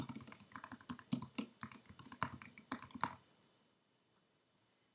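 Rapid typing on a computer keyboard, entering alt text for an image of the Getty Foundation in a web design tool: a dense run of close, crisp key clicks for about three seconds, then near silence.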